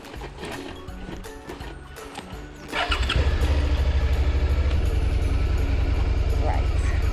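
A motorcycle engine starts up and settles into a loud, steady idle close by, with a quieter stretch of clattering and low rumble before it catches, on a beach campsite during a first motorcycle camping trip.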